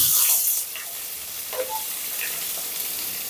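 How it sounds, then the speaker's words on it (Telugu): Onions and curry leaves fry in hot oil for an ivy gourd masala: a loud hissing burst at the start settles into a steady, softer sizzle with a few faint scrapes. "ఉల్లిపాయలు దోరగా వేగాలి"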